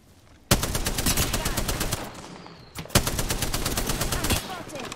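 Rapid automatic gunfire in the video game Apex comes in two sustained bursts of fast, evenly spaced shots, loud and close, with a short pause between them.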